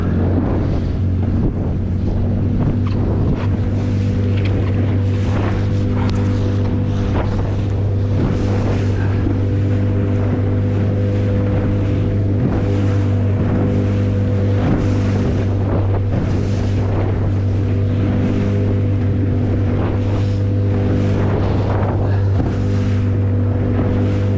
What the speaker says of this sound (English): Yeah, the waves are a bit bigger now.